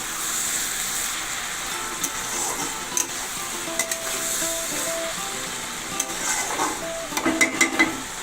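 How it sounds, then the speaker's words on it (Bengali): Snake gourd frying with eggs in a pan, a steady close sizzle broken by occasional spatula scrapes and taps that cluster into a quick run of stirring strokes near the end. "চিচিঙ্গাটা আবার নাড়াচাড়া করে দিচ্ছি"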